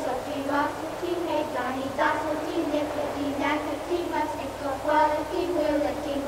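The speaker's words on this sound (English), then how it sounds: "you can hear the children singing in the background." Children sing a chorus in a scene from Hitchcock's The Birds, set outside a school. The singing sounds soft and somewhat distant and continues steadily with faint ambience underneath.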